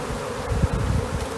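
A swarm of honeybees being settled into a modular hive gives off a steady, close, low buzzing hum that continues through the whole brief moment with no talking.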